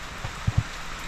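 Rain falls outdoors in rural Thailand as a steady soft hiss, with a couple of low dull thumps of drops near the microphone.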